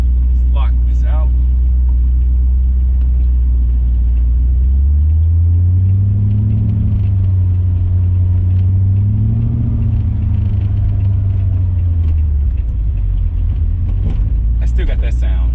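Car with a supercharged Coyote engine swap on a drive, a steady loud engine rumble and road drone throughout, with an odd pitch-wavering noise rising and falling in the middle; a few faint clicks near the start and end.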